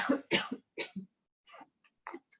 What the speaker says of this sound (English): I cough into the elbow.